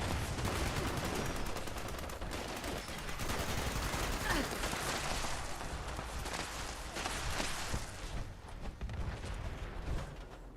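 Fallout 76 gunfire crackles in bursts of rapid shots against a busy background of combat noise and movement, fairly quiet overall and steady throughout.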